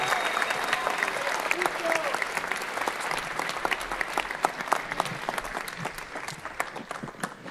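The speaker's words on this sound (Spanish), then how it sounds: "¡Que se escuche el aplauso!" Crowd at a Chilean rap battle event applauding, dense sustained clapping with sharp individual claps standing out, fairly distant and steady throughout.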